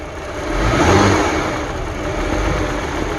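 Car engine with bad motor mounts revved in reverse against the brakes, a close, loud swell that peaks and then settles into a steady, elevated drone.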